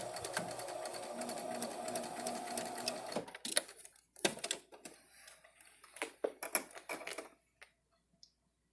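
A home sewing machine double stitches a fabric face mask, running in a fast continuous whir for about three seconds, then breaking into short bursts and stops, with brief pauses and faint handling noise between.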